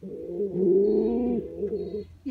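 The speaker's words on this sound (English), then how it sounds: "You're too much of a cooer." A pet bird coos indoors, a single soft, drawn-out throaty coo lasting about two seconds, close and clear with a brief trailing note.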